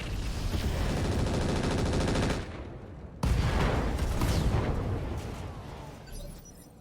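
Rapid, sustained gunfire from mech weapons in the video game RogueTech, a dense rattling barrage that cuts out briefly, then resumes loud and gradually fades.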